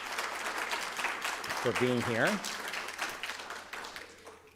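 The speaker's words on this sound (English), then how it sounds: "let's give them all a big round of applause" An audience at a youth mental health event applauds, a continuous wash of clapping under a voice that keeps speaking over it.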